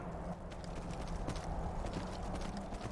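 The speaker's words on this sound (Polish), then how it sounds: "idealny moment na przyzwanie sobie konia i bicie sobie tam na górę" Horse hooves clip-clopping in the video game Skyrim as a summoned horse rides uphill, a steady trotting patter under a constant ambient game background, with no talking.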